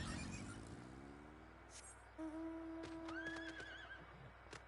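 A horse whinnies in Final Fantasy XIV, a rare mount: a falling neigh at the start, then steady musical game tones and chimes ring out over a soft background.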